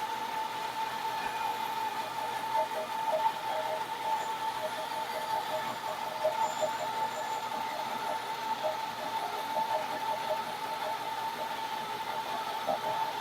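A band saw resaws a board held against the fence, making a steady, even whir with a faint continuous hiss and no pauses.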